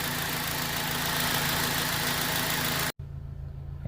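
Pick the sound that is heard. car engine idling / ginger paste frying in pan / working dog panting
car engine idling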